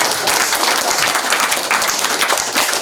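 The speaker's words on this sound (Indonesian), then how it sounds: "Berikan sorak-sorai buat Tuhan" A crowd at an outdoor healing revival service in a village cheers and applauds, giving dense, sustained clapping close by that runs for about three seconds.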